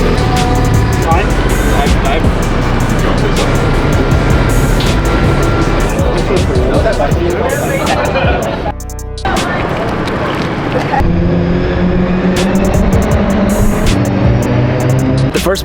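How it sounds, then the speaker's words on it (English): Toyota GR race cars roar through their first practice session on a race weekend, a loud continuous engine and road noise that dips briefly mid-way before swelling again, with voices underneath. "The first practice session just started for the Toyota GR racers. You're gonna hear the first car."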